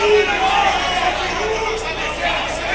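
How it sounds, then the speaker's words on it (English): Crowd at a fight between Igor Vovchanchyn and Elias Rodriguez keeps up a steady roar of cheering and chatter, a broad wash of arena noise under a commentator's voice. "Crowd is into this one."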